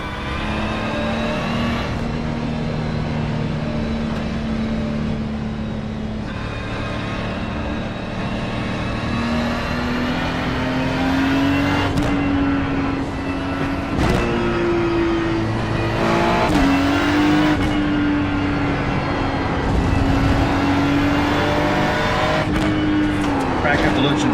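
A GT3 race car engine in a racing video game at Portland screams steadily through gear changes, with upshifts, brief lifts and tire squeal, under ongoing talk between players.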